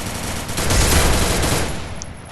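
Rapid gunfire in the Free Fire video game comes as a loud, dense burst of shots that swells and then fades over a couple of seconds.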